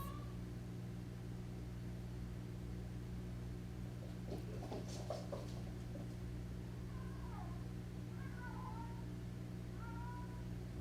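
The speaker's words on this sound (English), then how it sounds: "meow that is just like crazy and so loud, like you think she's dying or in heat or something" A cat meows loudly while playing with a toy mouse indoors, a few drawn-out wavering cries in the middle and later part over a steady low household hum, with no talking.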